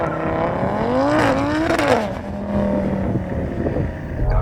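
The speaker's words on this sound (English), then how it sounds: "Go on Dan, let's see you skid your RS3" An Audi RS3 doing a wheelspin skid to warm its tyres before a drag race, engine revving up and down in rising and falling swells over a loud rumbling tone, close by.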